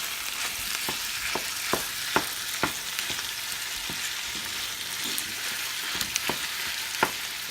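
Ground meat frying with cooked onion in a pan, a steady close hiss of sizzling punctuated by regular light taps and scrapes of a spoon stirring, with no talk.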